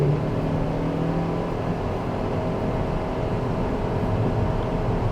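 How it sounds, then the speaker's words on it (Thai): Mitsubishi XFORCE HEV accelerates hard from a standing launch on a track in sport mode, producing a loud, steady engine and road roar heard from inside the cabin. "ลองทาแม็กนะครับ ในการออกตัว เหมือนเป็นโหมดสปอร์ต"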